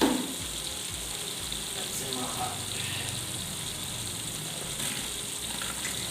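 Onions cooking in oil with salt in a large pot, part of a batch of tomato rice for a hundred people, give off a steady, even sizzle that holds without a break for the whole stretch.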